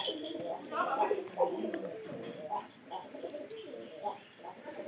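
A newly paired couple of domestic pigeons coo in a loft, giving a string of soft, throaty, rolling calls that rise and fall steadily across the whole stretch, close by.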